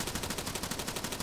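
Rapid automatic gunfire in the military shooter game Arma 3, a steady rattle of closely spaced shots running throughout at moderate, somewhat distant loudness, with no voices.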